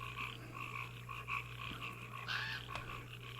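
Frogs croak in a steady, layered chorus over a low constant hum, fairly faint and without any voices.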